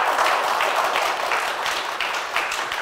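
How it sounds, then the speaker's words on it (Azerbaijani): A studio audience claps together on a live Azerbaijani TV talk show, producing dense, steady applause that holds at an even level throughout with no voices over it. "Alqışlayaq"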